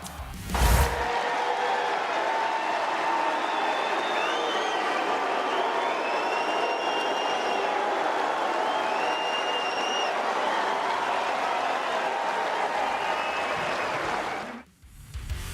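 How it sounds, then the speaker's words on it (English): Crowd reaction at a tennis match as a ten-time champion withdraws and leaves the court, a steady wash of boos and scattered, reluctant applause sustained throughout, with whistles rising above the noise. "Joker's withdrawal was seemingly met with boos and reluctant applause as the 10-time champion left the court"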